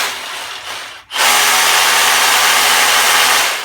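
A Milwaukee M18 Fuel SDS hammer 2712 switches on in chip mode after a brief quieter motor hum and a short pause, then runs loud and close with a steady, dense hammering whine.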